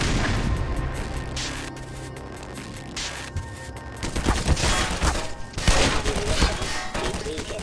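Gunfire from the shooter game Black Mesa: Xen, a run of loud shots and booming impacts with a busy combat mix, building toward heavier blasts near the end.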